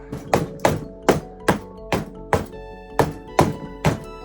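A small mallet strikes the washer and bolt on a Power Wheels ride-on toy's wheel, making ten sharp, evenly spaced knocks with a ringing metallic edge, loud and close with no talking.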